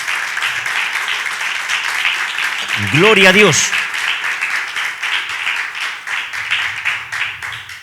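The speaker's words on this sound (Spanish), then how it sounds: "Dele un fuerte aplauso al Señor" A church congregation claps loudly and steadily for the Lord during a Spanish-language sermon, the applause carrying under a pastor's brief exclamation of praise.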